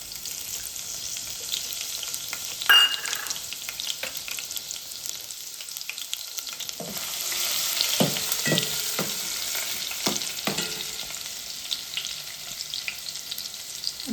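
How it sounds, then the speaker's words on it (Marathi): Garlic sizzles steadily in hot oil, a close, continuous crackling fry with occasional stirring scrapes and clinks breaking through, no voices. "लसूण कुरकुरीत होईपर्यंत परतून घ्यायचं तेलामध्ये."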